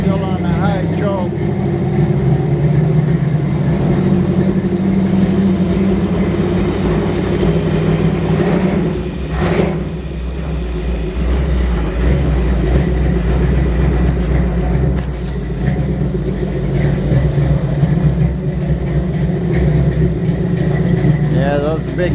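A 1929 Chrysler 360 engine idles on high choke through a custom exhaust with big tail pipes, giving a loud, steady low rumble throughout with a brief dip in the middle, and a person speaks over it.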